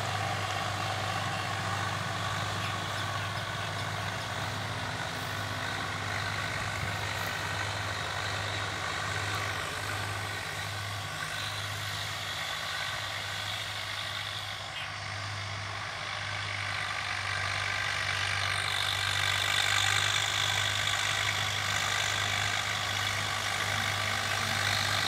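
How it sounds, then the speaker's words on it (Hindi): A Swaraj 744 FE tractor pulling an 8-8 harrow drones steadily at a moderate distance, with a constant low engine hum that swells slightly near the end. "ट्रैक्टर की चाल बहुत बढ़िया है"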